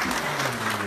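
A church congregation applauding, a brief dense wash of clapping from many hands at steady loudness.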